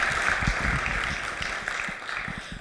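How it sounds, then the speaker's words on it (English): Brief applause from a church congregation at a proposal Q&A session, a muffled, steady patter of clapping heard at moderate distance. "Round of applause for Michelle, please."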